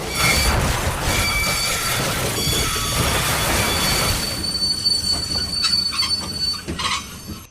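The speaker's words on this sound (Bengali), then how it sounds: "সেই সময় আচমকা ট্রেনটা থেমে গেল।" A train braking to a sudden stop, steel wheels screeching loudly against the rails with sustained high squeals over a rumbling roar that fades away after several seconds.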